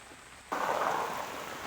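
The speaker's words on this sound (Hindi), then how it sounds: "देख लीजिए हमारे यहाँ बारिश हो रही है।" Heavy rain starts abruptly, a dense rushing hiss of downpour pounding surfaces close by, loud and steady after a quiet start.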